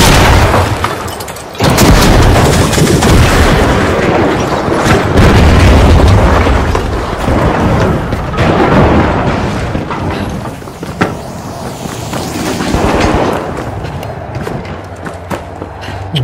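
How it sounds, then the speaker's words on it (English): A frag grenade blast in the arena shooter The Finals: a loud, close boom swelling into a long rumbling roar of debris and gunfire that stays dense and heavy through most of the stretch. "Frag grenade!"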